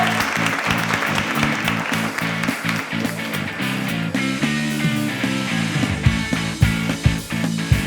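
Studio audience applause on a TV comedy show, sustained clapping with music playing underneath and a thumping beat toward the end.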